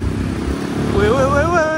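A motorcycle ridden by a woman rumbles close by, its engine note rising and swelling partway through under continuous talking voices.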